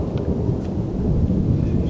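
Thunder from a thunderstorm rolling as a low, continuous rumble, steady and moderately loud, with a faint wash of rain beneath it and no voices.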